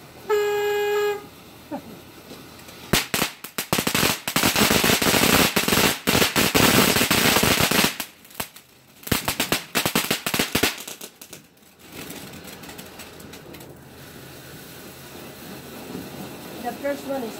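Loud firecrackers and fireworks go off at New Year in dense, crackling volleys of rapid bangs, close by. The bursts stop, start again, then trail into fainter pops while people talk.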